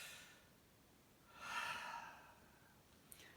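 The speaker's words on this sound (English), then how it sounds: "Big breath in. Another big breath." A deep breath taken during a gym stretching exercise, one soft airy inhale swelling in the middle, close but faint, with no talk.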